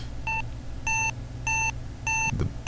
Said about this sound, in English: the beep made by the watch